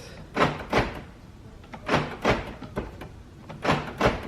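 Power door locks on a 2012–2017 Toyota Camry XV50 cycle inside the car, producing several sharp thunks in paired bursts at a close, fairly loud level.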